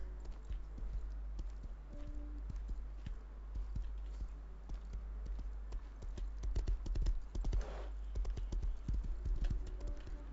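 Horse hooves clop in the survival game Rust, a quick irregular run of close hoof knocks over a low steady hum, growing busier toward the end.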